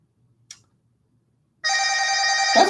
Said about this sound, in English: It's ringing, but it's not coming up with the ring screen.